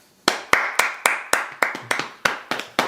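Podcast hosts clap to welcome a guest: about eleven sharp, close hand claps in a slightly uneven rhythm, each one crisp and clear against a quiet room.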